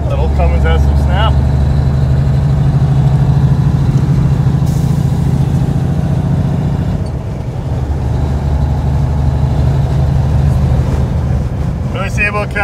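An old Cummins diesel in an International cabover truck runs with a deep, loud, steady rumble that eases off partway through, then holds at a lower level, with voices talking over it.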